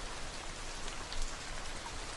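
Soft, steady rainfall pattering on surfaces, a gentle continuous hiss with scattered droplet taps, fairly quiet and even.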